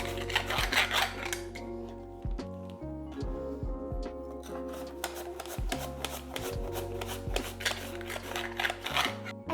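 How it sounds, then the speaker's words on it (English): Potatoes being sliced thinly on a mandoline for a Christmas dauphinoise, a fast run of crisp, rhythmic scraping clicks, close and fairly loud, with brief pauses between bursts. "purely for speed, time and accuracy, I am going to be using the mandolin"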